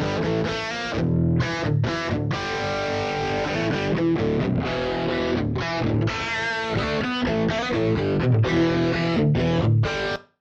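Electric guitar run through an ab Phaser plugin and decoded from Ambisonics to a 7.1.2 Atmos layout plays a distorted, sweeping chordal riff with rhythmic stops, continuous and loud with no voices.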